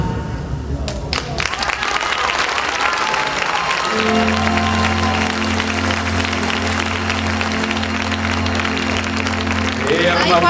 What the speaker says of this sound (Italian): Un applauso alla prima concorrente che ha rotto anche un po' il ghiaccio.